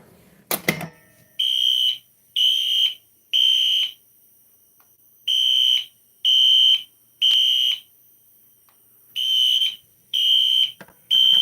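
A loud Wheelock NS electronic fire alarm horn blares in short repeated bursts, pausing between groups, after a sharp click at the start.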